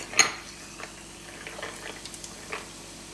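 Sparkling water is poured into a caipirinha glass with ice, giving a short clink of ice at the start followed by soft, faint fizzing and small liquid trickles in a quiet room.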